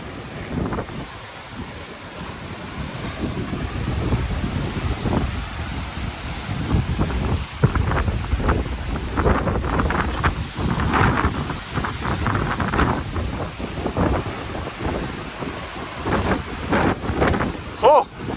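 Hurricane Helene's wind gusts roar and buffet the microphone in surging waves, loud and close, rising and falling continuously throughout.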